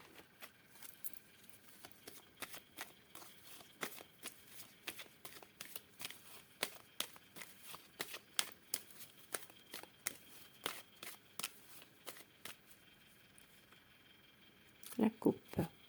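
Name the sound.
shuffling and cutting a deck of cards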